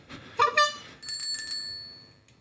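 A bicycle bell used as a winner's bell on a cycling talk show rings clearly: a couple of quick strikes, then a bright sustained ring that slowly fades, close and alone.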